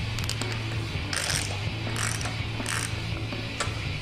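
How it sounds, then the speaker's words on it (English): A socket wrench ratchets as it runs connecting-rod cap bolts up hand tight, making three short clicking bursts over a steady low workshop hum. "get our socket, and we'll just do them up hand tight"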